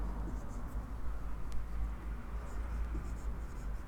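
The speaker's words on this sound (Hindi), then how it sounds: "यहाँ लिख दे रहा मैं" Steady scratching of a pen or marker writing on a board during a chemistry class, close and continuous over a low hum, with no talk.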